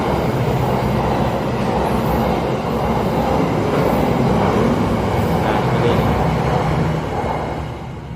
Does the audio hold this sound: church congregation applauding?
no